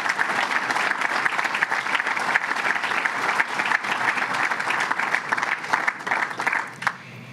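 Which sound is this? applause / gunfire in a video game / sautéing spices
applause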